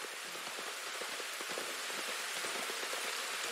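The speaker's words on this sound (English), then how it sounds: "You were right about the damn rain." Steady rain pours down in Red Dead Redemption 2, a dense, even hiss of drops on surfaces with scattered louder patters, continuous throughout with no talk.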